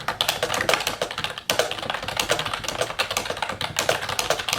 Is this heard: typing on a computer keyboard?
yes